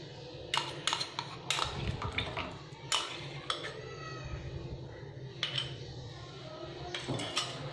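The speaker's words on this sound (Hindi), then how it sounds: "और इसको हम चलाएंगे," A spoon stirring besan batter in a pan over low heat, with repeated sharp metallic scrapes and clinks against the pan over a soft continuous background, in an irregular rhythm.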